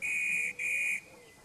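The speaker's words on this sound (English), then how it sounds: "The guard blew his whistle" A guard blows a train whistle on the Island of Sodor, two shrill steady blasts, the first longer, the second ending cleanly, with a faint low rumble beneath.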